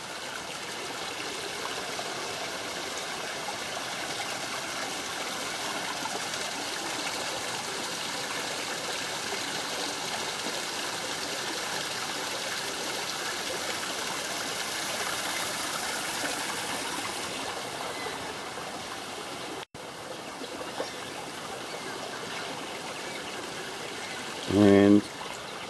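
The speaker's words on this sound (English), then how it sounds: "There's a bit of cascading water up there." A creek with small cascades in Glenworth Valley forest rushes steadily and evenly throughout, with a brief loud knock near the end.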